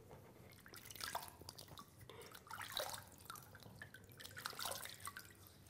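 Water poured over a stone sculpture splashes and drips in quiet, irregular patters and trickles, close by and soft, with no talking.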